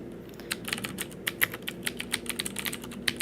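Steady clacking of keys on a CM Storm QuickFire XT mechanical keyboard, a quick run of crisp clicks up close with no talking.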